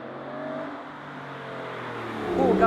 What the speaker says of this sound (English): nothing gives you more goosebumps than a naturally aspirated engine, especially if it's a V12